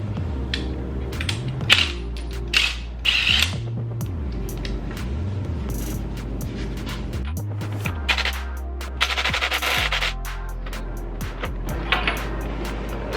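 A power tool works the 14 mm wheel studs on a Dodge Challenger Scat Pack widebody, its motor whirring up and down in several separate bursts with rattling clatter and clanks between them, close and fairly loud.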